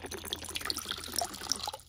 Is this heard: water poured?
yes